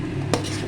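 A spoon scrapes once against a pan while sour yogurt is stirred in over low heat, a single brief clink amid a soft, quiet background.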